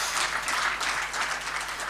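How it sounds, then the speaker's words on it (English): A meeting audience claps in a moderate, continuous round of applause, an even patter of many hands heard at some distance throughout. "Another big round of applause for him, please."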